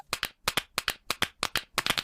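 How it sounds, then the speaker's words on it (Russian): Children clapping in rhythm in a cartoon, crisp paired claps repeating in a steady pattern, close and clear with nothing else heard. "Мадам Газель превратила хлопанье в музыку"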